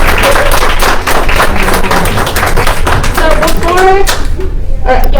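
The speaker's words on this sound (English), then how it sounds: "one last round of applause for our winner this year" An audience at a youth art showcase awards ceremony applauds the winner, dense overlapping clapping that stays loud and steady throughout with a few voices cheering over it.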